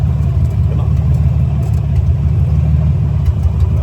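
A 1946 Willys CJ2A jeep engine rumbles steadily while driving, a loud, close, low-pitched drone with a slight rhythmic chug throughout and no voices.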